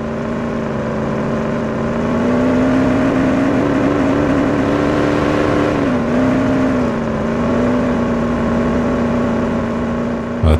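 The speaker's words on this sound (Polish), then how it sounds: "Ten silnik się męczy." A car engine in the Police Simulator video game strains at a steady, loud drone, holding one pitch for the whole stretch with only a slight dip midway.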